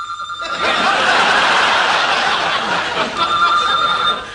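A telephone rings loudly and continuously for several seconds, with a bright, steady electronic trill and no talk over it.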